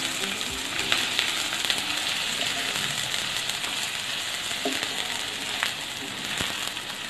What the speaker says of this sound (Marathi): हिरवी मिरची परतली की मग कांदा घालून परतून घ्यायचं चांगलं